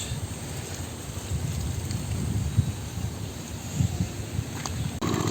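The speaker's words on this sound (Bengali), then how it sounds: "আজকের দিন ঠান্ডা আছে মানে বৃষ্টি হইতেছে বাতাস" Wind and rain outdoors beside a village pond on a cold day, a steady broad rushing wash with low rumbling gusts buffeting the microphone, constant throughout and without speech.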